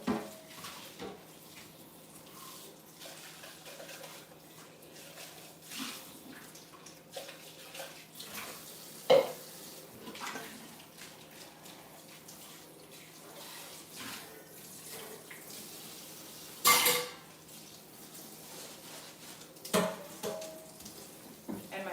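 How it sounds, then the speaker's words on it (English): A blender container rinsed under a running kitchen tap, with steady water flow and a few sharp clinks and knocks of the jug against the sink, close and fairly quiet, no voices. "Rinsing out my blended mix container."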